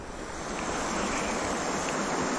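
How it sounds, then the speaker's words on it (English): A creek running high rushes at a trail crossing on the Ozark Highland Trail, a loud, steady broadband roar of churning water with no pauses or voices. "I think there's actually a couple of creek crossings, but I wasn't expecting it to be running this high."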